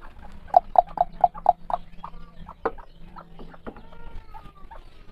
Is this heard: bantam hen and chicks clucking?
yes